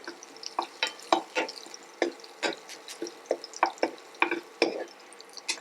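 Green chillies fry in a hot oil tempering for a rice-and-curd porridge, with a steady soft sizzle broken by repeated stirring scrapes and clinks of a spoon against the pan.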